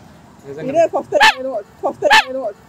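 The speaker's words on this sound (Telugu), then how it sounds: "డాగ్ కరిచింది" A dog barks in two short, close, loud bursts, with voices present around the barks.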